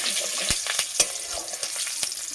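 Whole black cumin seeds with a bay leaf sizzle briskly in hot oil in a pan, with steady crackling frying and a few sharp scraping knocks as they are stirred, close and fairly loud.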